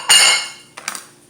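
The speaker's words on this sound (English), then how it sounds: "Plates." Plates clatter and clink together as they are set out in a kitchen for a meal of eggs and bean and bell pepper salad, one loud clattering burst followed by a few softer clinks.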